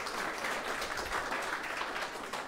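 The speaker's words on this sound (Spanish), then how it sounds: "con otro aplauso, agradezcamos al profesor Edwin" Audience applause after a university physics colloquium thanking a professor, a steady broadband patter of many hands that stays even in level for its brief length, moderately distant with no voices.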